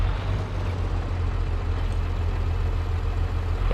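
Tractor engine in Farming Simulator 22, running with no front weights on a vineyard map, a loud steady low rumble with a throbbing idle that holds without a break.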